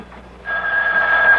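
Telephone ringing beside a bed in a 1975 radio mystery drama: after a brief quiet moment, a loud, sustained electronic ring tone starts and continues steadily to the end.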